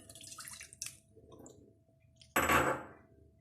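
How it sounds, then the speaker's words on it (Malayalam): Half a cup of water splashes into a hot kadai while coconut burfi is being made, a short, loud sizzling burst after some quiet clinks and drips, fading away over about a second. "ഇനി കടായിലേക്ക് 1/2 കപ്പ് വെള്ളം ഒഴിക്കുകയാണ്"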